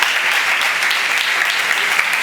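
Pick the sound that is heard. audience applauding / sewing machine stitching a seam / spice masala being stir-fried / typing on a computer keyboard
audience applauding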